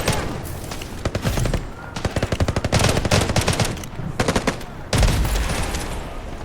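Rapid volleys of shotgun and gunfire from the Delta Force video game crackle loudly in dense bursts, with a heavy blast near the end, mixed with game sounds.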